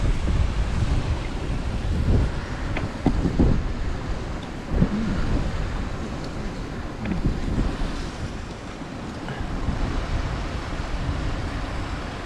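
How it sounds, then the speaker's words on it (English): Outdoor waterfall with a constant broadband rush of falling water and gusts of wind buffeting the microphone, steady and fairly loud throughout, with no talking. "Beautiful waterfall."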